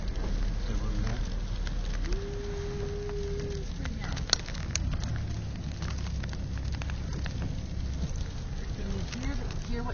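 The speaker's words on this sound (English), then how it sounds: "Can you hear what's landing on the glass now is sleet?" Sleet patters on car glass during a first snowstorm in Newton, a steady fine crackling hiss with scattered sharper ticks. A person speaks over it.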